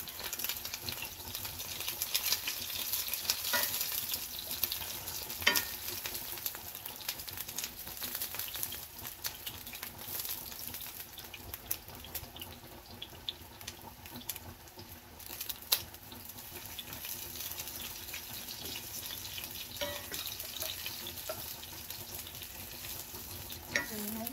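Ginger toasting in a pan, a continuous moderate sizzle with occasional sharper crackles and faint scraping, heard alone without speech.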